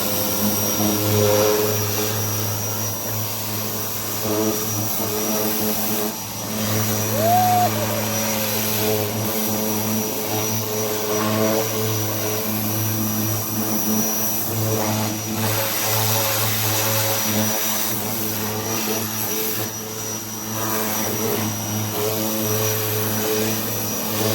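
A power washer blasts a dirty picnic bench with a loud, steady roaring hiss of motor and spray that runs without pause from start to finish, close by.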